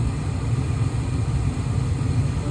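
A replacement furnace inducer motor runs with a steady, even hum and a low rumble, continuous and unchanging throughout with no voices.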